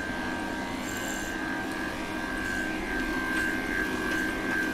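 Electric clippers hum steadily near at hand while trimming a cocker spaniel's coat, a constant buzzing tone with faint brushing and scraping through the hair and no speech.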